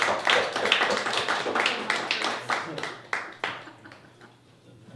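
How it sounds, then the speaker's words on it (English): An audience at a monthly story night and open mic claps for itself, a burst of fairly close hand claps that thins out and fades, with some voices mixed in. "Please give yourselves a round of applause."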